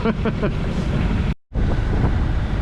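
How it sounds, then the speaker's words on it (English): Strong afternoon wind of about 15 knots while a sailboat comes into a harbor entrance, buffeting the microphone in a loud, steady rush with a brief dropout in the middle. "We've got our afternoon 15 knots as we're coming into Angel's Gate. Nice wind."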